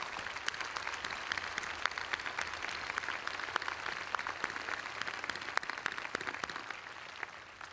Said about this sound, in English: I ask that we applaud one of the two greatest mothers I know, Dr. Ok-Suk Kim.